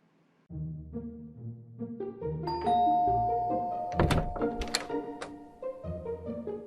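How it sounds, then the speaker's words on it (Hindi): A melodic electronic house doorbell chime plays a multi-note tune, followed by a brief knock or thunk and the tune resuming, fairly close and clear. "और अब चलिए बजाते हैं किसी घर की घंटी।"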